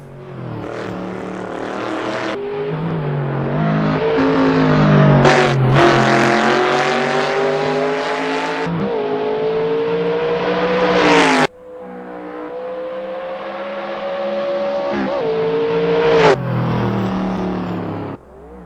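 Race car engine in the Assetto Corsa sim, a Dallara F317 single-seater, revving hard through gear changes with sharp cuts between rising howls, loud and continuous with no voices.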